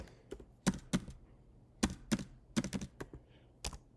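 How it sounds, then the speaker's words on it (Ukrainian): A web address typed on a computer keyboard: a handful of crisp, close key taps in short uneven clusters, with brief gaps and no talk. "нам залишилось тільки змінити URL. Пишемо Нікітін"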